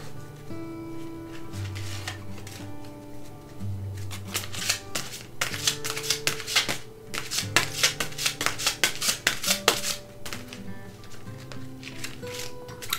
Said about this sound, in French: elles sont très grandes, mais faciles à mélanger malgré tout